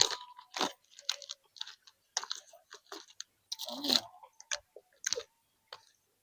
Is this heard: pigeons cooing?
no